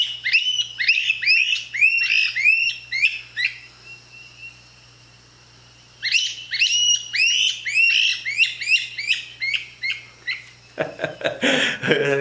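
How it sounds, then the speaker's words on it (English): Two birds trade rapid, harsh squawking calls in bursts, pausing briefly before another noisy exchange, with a low steady hum underneath. "this is a pair of birds squawking back and forth as an outburst"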